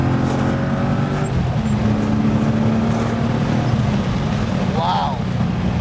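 A BMW E30 coupe powered by an M60B44 V8 drives along with a steady, loud engine drone and road and wind noise throughout. A brief higher whine appears near the end.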